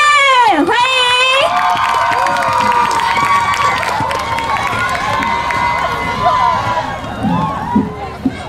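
An outdoor lawn-concert crowd cheers a singer-songwriter's entrance with loud high whoops and screams over a wash of clapping, dense at first and then thinning out over several seconds.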